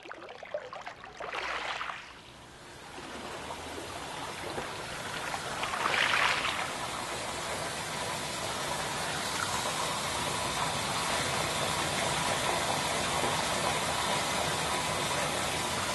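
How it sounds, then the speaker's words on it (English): Water pours continuously and steadily into a theater, a broad rushing gush that holds at an even level throughout with no voices. "The theater slowly fills with water."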